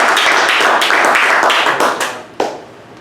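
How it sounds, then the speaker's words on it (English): A dense burst of audience applause at a talk, loud and continuous from the start, thinning to a few scattered claps and fading out near the end. "let's give him a big round of applause for coming here, Alan."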